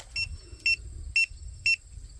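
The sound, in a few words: pet fence collar and remote beeping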